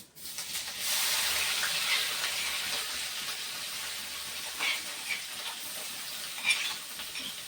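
Green chili thecha added to roasted cumin in hot oil sets off a sudden, loud sizzle that settles into a steady hiss and crackle. Light stirring scrapes sound in the background.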